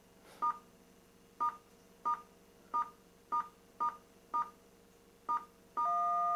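A restored Compuvend coin-operated novelty rating machine gives a series of eight short, evenly spaced electronic beeps, then a sustained tone at the end, all alone against a quiet background.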